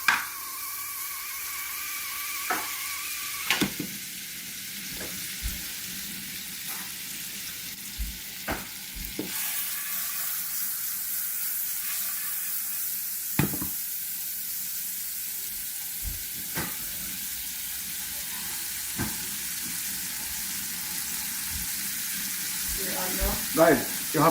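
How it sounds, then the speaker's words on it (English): A soft, continuous sizzle of butter melting hisses in a pot, with occasional clinks and scrapes of a utensil stirring; no one speaks. "we're gonna put a little piece of butter in the pot"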